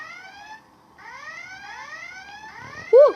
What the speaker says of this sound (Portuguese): tô tocando alarme.